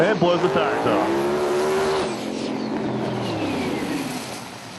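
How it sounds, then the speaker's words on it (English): A drag race car launches hard and spins its tires, a loud engine roar sweeping upward into a squealing, smoky skid that fades as it pulls away, with an excited commentator speaking over it. "Marty Stinnett behind the wheel. And blows the tires off."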